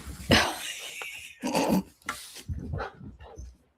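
A dog indoors making noisy, scuffling vocal sounds in a few irregular bursts, fairly close and moderately loud, with no clear speech over it.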